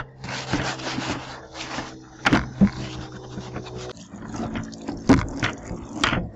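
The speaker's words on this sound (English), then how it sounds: "Just pour this sand away." Damp sand tipped out of a bucket during bucket cleaning, a close gritty scraping and sliding pour broken by a few sharp knocks and thumps, with no one speaking.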